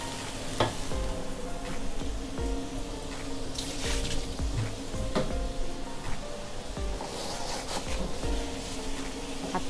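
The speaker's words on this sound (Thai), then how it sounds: "ไปผัดกับกุ้งเลยนะผัดให้กุ้งสุกไปเลยนะ" Bamboo shoot strips and shrimp stir-fry in a hot pan, a continuous close sizzle broken by repeated scraping and clanking of the spatula, with no talking.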